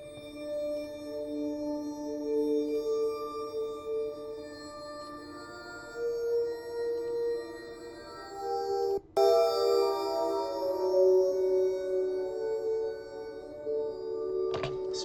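Granular, low-passed piano tones pass through a convolver effect, sustained soft pitched layers shifting slowly, with a brief cut near the middle and a short clatter at the end.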